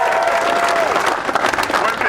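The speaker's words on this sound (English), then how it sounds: "This is a crowd, so you need to give yourself a round of applause." A crowd at a post-election rally against Proposition 8 claps and cheers in dense, sustained applause, with voices mixed in among the clapping.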